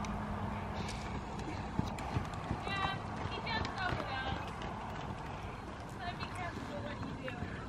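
Rhythmic hoofbeats of a horse trotting on soft ground, steady and moderately near, with people talking in the background.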